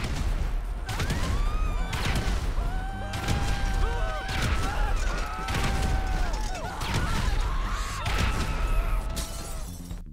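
Explosions and crashing impacts in the video game GTA 5 during a bike mission, with repeated loud blasts and shattering bursts packed together over ten seconds alongside a tonal game soundtrack.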